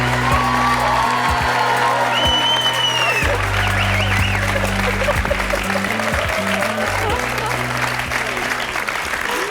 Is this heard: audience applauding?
yes